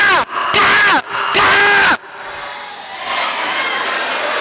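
A performer on stage at a school arts fest imitates a crow's caw, giving three loud, harsh bursts in quick succession, then a steady murmur of the crowd takes over.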